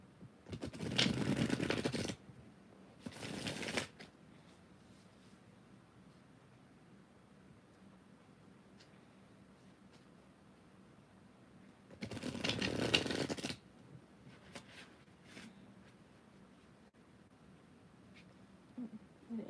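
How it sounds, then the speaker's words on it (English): Tarot deck being shuffled at close range, two brief riffling bursts at the start and another around the middle, with quiet room tone between. "Let me shuffle real good."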